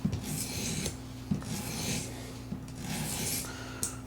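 Knife blade stroked across the stone of an Apex Edge Pro sharpener, a steady rasping rub repeated in long even passes with brief clicks between strokes, close and moderately loud.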